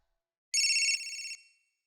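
A mobile phone gives a short electronic ringtone, a bright high-pitched chime that lasts under a second and then fades, heard close and alone in a quiet room.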